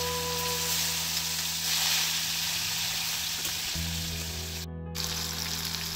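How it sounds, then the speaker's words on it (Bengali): Paneer pieces frying in hot oil in a wok give a steady, loud sizzle with crackling throughout, plus a brief clatter near the end as they are stirred. "তো এখন আমি প্রথমে মেখে রাখা পনিরগুলো ভেজে নিব"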